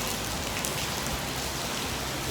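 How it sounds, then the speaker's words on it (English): Heavy rain pours down on a cool morning in Bali, Indonesia, as a dense, steady hiss of drops on surfaces, loud and continuous throughout, with no voices. "it's raining heavily."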